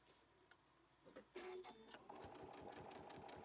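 Sewing machine stitching a quilt, a few isolated clicks and stitches before it settles into a steady, fast, even mechanical whirr, quiet and close.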